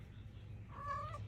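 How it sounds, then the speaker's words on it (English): A faint, short, high-pitched meow from a small kitten, over a low hum of background noise. "Kitties, little kitties."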